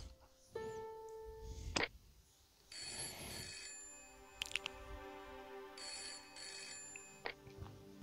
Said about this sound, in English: Let's use the phone. And we'll give this Todrick a call.